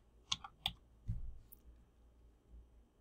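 A few sharp, quiet keystroke clicks on a computer keyboard during lab data-processing work, spaced irregularly early on and then giving way to a faint low rumble, with no voices.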